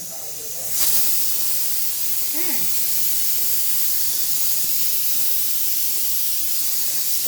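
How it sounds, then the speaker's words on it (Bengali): A pressure cooker cooking dal vents steam in a loud, steady hiss that begins abruptly about a second in and continues unbroken to the end, with a faint brief chirp partway through. "প্রেশার কুকারে সিটি দিচ্ছে ডাউল বসাইছি"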